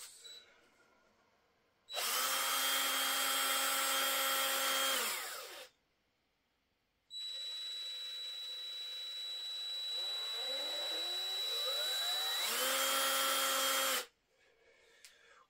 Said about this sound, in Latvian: paklausīsimies bišķi, kāds ir 9 gadus atpakaļ tas Urbs bija